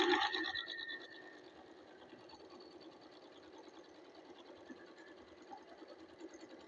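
A sewing machine stitches a straight skirt seam with a fast, even, quiet whir. It starts slightly louder, then settles into a steady, soft run without pauses.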